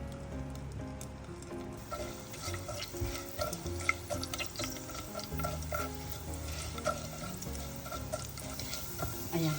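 Annatto seeds in oil being stirred for a chicken inasal basting sauce, soft scraping and clinking over a light sizzle, close and moderately quiet, with no talk.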